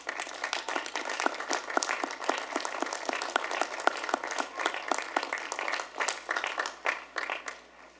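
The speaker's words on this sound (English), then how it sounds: "give a big round of applause for your families and" Graduates at a university commencement ceremony give a sustained round of applause for their families and friends, dense many-handed clapping filling a large hall steadily for the whole stretch, swelling and thinning slightly toward the end.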